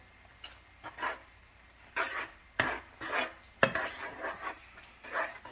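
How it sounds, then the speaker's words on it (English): Macaroni and cheese being stirred in a pot, with a spoon scraping and knocking against the pot in irregular bursts, moderately close and alone, with no talk. "Then after that, you're going to have to stir, stir."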